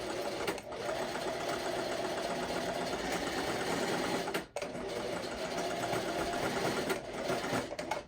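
A sewing machine runs a zigzag stitch on ruffle sock fabric, a close, steady mechanical whir and rapid needle clatter that briefly dips once before resuming.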